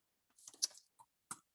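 A few light, scattered clicks from a computer keyboard, soft and close, with short pauses between keystrokes in an otherwise quiet room.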